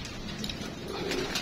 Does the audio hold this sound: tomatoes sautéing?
no